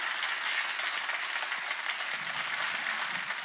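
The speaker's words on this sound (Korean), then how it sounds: "박수를 치려보셔야겠죠." Steady, fairly soft applause from a church congregation during a sermon, a continuous wash of clapping with no distinct individual claps standing out.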